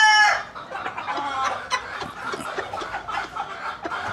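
A broodstag rooster from a Golden Boy and Cardinal cross clucks repeatedly and close by, opening with a short crow-like call, with other fowl faintly in the background.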